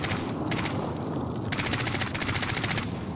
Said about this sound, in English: Oh, he's shooting, he's shooting, he's shooting.